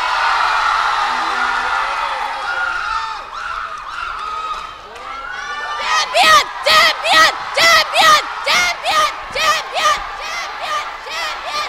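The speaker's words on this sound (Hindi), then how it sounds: "ताली बजाइए।" A studio audience at a Ramadan game show claps in unison and cheers, a steady run of loud rhythmic bursts with voices mixed in, following a stretch of a host talking.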